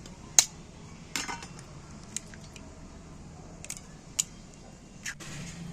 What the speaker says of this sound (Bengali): ডিমটাকে ফাটিয়ে নিচ্ছি